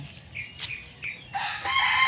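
Chickens cluck softly nearby, then a rooster crows loudly and close, the crow building and holding to the end.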